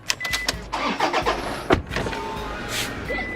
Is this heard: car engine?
yes